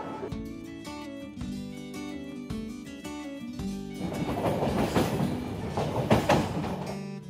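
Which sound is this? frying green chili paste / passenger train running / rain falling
passenger train running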